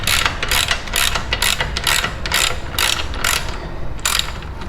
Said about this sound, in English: You can do this with a wrench, but I like to do it with a ratchet.